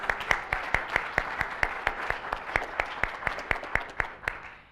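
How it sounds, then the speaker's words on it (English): An audience claps in a round of applause at a university lecture event, sustained and fairly even, with sharp individual claps standing out in a steady rhythm throughout, fading slightly at the end. "We should just give them a round of applause."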